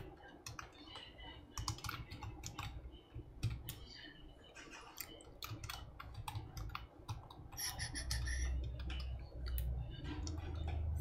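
Computer keyboard typing while a database query is written for a PHP school management system project, with steady, fairly dense clicking keystrokes running throughout and a low background hum.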